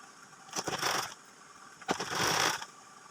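A sewing machine stitches folded piping fabric for a small child's kameez, in two short mechanical runs of about half a second each with a pause between.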